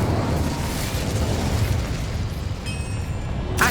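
Incendio fire spell in Hogwarts Legacy: a loud, sustained explosive roar of flame that flares up again sharply at the end.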